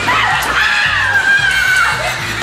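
A single high, wavering scream rises and falls for about two seconds over steady background music, heard during a Taiwanese cooking segment on preparing snails.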